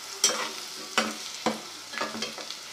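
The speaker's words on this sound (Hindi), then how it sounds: "तो हम थोड़ा सा प्याज को करेंगे, चार से पाँच मिनट में हो जाएगा ये।" Onions fry in a pan while a spoon stirs them at intervals, giving a steady soft sizzle broken by sharp scraping strokes every half second or so. The sound is close and has no talk over it.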